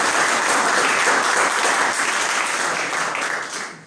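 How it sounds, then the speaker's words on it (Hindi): An audience applauds at an interview with PTI teacher Rohtash at Ambition Classes, a coaching institute in Siwani. The dense, steady clapping stays loud and continuous with no talk over it, then thins slightly near the end. "एक बार सभी तालियां बजा के सर।"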